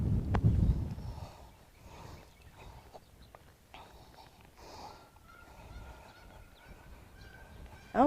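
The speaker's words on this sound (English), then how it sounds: "I don't know if you could hear their honking, but they terrified the horse" Geese honking near a horse being ridden in an arena, a loud burst of honks at the start, then quieter scattered calls with hoof and tack noise, and another honk at the very end.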